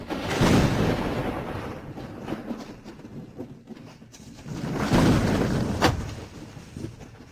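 Rumbling thunder rolls through a night scene, with a loud broad swell near the start and another around the five-second mark, low rumbles continuing between them and no voices.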